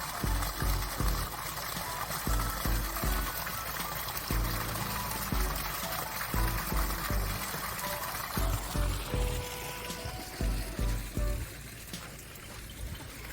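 Water flowing outside Yeongyeongdang in Changdeokgung Palace's rear garden, a steady splashing pour with a continuous trickle, fairly close and moderately loud, with faint other sounds behind it.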